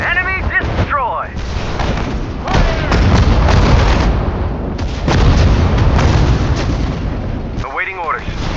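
Artillery fire in the World War II strategy game Sudden Strike 4: heavy booming gun blasts and rolling explosions, loud and near, with brief in-game soldier voice callouts at the start and end.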